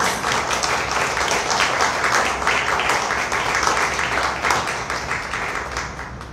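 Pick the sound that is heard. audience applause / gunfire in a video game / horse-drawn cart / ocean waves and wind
audience applause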